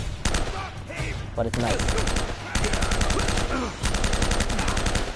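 M4 rifle in Uncharted fires in rapid automatic bursts, sharp close cracks in quick rhythmic strings separated by brief pauses, with a voice speaking briefly in between.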